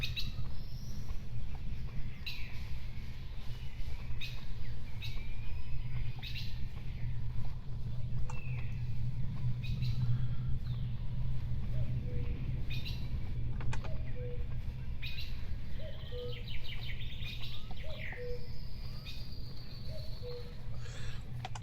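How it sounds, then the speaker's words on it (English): Birds chirping in the video game Stalker: scattered high tweets and calls across a steady outdoor ambience with a low hum underneath, moderately faint, without talk. "Well, whatever's going on, the birds are still alive,"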